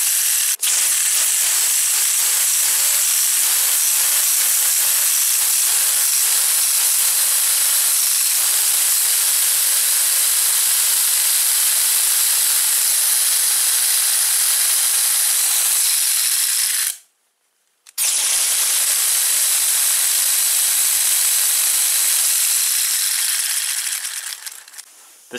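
Continuous loud hissing whir of a 3D-printed air-powered Wankel rotary engine running on compressed air, rattling steadily up close, cutting out for about a second midway before resuming and fading slightly at the end.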